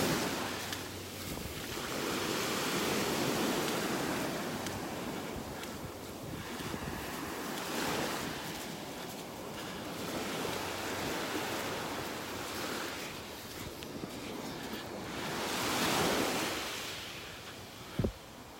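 Ocean waves surge and wash in on a beach in North Naples, Florida, as a continuous broad roar swelling and easing in slow rolls, mixed with gusting wind noise on the microphone and no talk.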